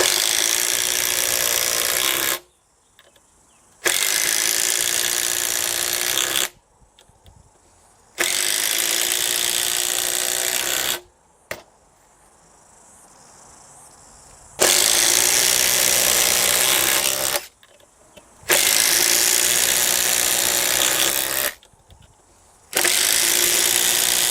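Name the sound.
Makita impact drivers driving screws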